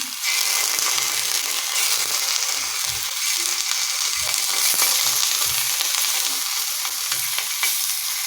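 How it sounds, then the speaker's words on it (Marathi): Paneer slices frying in a little oil in a pan, a loud steady sizzle close up with intermittent soft scraping and tapping from turning, no voices. "याच्यावरती पनीरचे असे काप केले आहेत कट करून घेतले आहेत ते हलकेसे परतून घेते"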